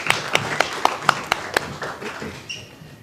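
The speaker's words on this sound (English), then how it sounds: "So I'll give yourselves a round of applause for that." Audience at an autism discussion event clapping, with a few sharp, evenly spaced claps that soon thin into fainter scattered ones, close and fairly quiet.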